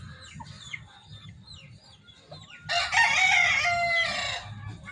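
Sweater Gray gamefowl rooster crowing once, loud and close, midway through, preceded by softer clucks and calls from nearby fowl over a low background rumble.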